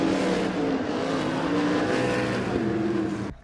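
Sprint cars in an ASCS Desert Sprint Car Series main event race at Arizona Speedway, a loud, dense engine roar from several cars held steady for about three seconds before cutting off.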